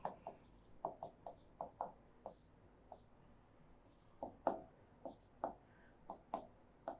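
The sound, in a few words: writing notes during a lecture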